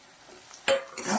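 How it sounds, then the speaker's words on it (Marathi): Spiced potato filling sautéed in a pan for a capsicum dish, a low sizzle followed by two loud, close scraping stirs of a spatula near the end, with no speech. "हे सारण पूर्ण परतून घ्यायचं आहे"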